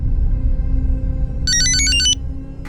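A telephone gives one loud, warbling electronic ring burst in a Hindi crime drama scene, then cuts off, with a low background hum and no speech.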